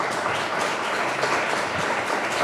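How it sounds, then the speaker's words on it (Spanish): Audience at a forum on sexual and reproductive rights breaks into steady, even applause, a dense wash of clapping that holds for the whole stretch at moderate level. "Yo sí les quiero pedir un aplauso por todas ellas."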